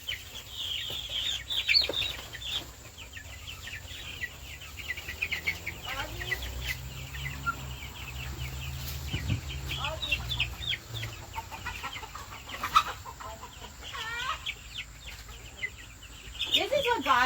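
Young chicks and roosters cluck and chirp in a busy, continuous chorus of short calls, with a person speaking now and then over the birds.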